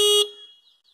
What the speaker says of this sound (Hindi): एक बार हॉर्न बजा के देख लेंगे कि इसकी जो थ्रो है वो कैसी है